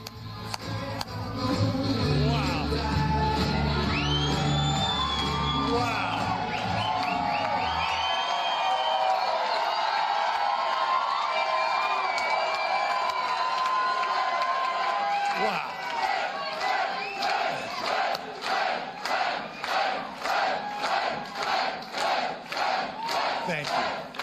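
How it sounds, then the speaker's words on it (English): A large, excited crowd at a Virginia governor's election night victory rally roars and shouts, then breaks into a loud rhythmic chant with claps keeping a steady beat, dense and close throughout. ""Let's Go Brandon" chants in a generally excitable crowd"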